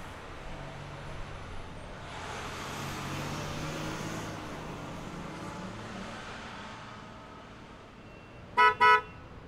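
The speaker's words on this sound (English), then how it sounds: "Unlocking car." Two quick car horn chirps sound as a car unlocks near the end, after a stretch of passing traffic and road noise.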